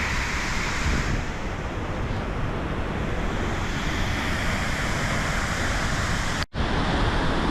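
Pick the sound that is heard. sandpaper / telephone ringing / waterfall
waterfall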